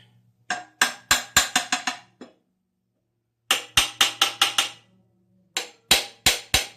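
A brass mallet knocks an engine bed plate down onto tight locating dowels on a 4.7 V8 Power Tech Magnum engine, three bursts of sharp metallic taps in quick rhythmic runs separated by pauses, close and ringing.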